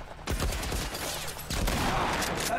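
Gunfire in The Last of Us Part I: two bursts of rapid automatic shots, loud and close, the second volley starting sharply after a short gap and continuing to the end.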